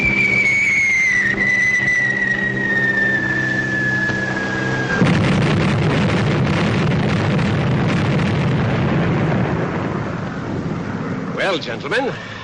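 Loud bomb blast from an aerial bombardment test in a 1940s Sherlock Holmes radio drama, a sudden heavy roar that follows a falling whistle and rumbles on for several seconds, with voices joining near the end.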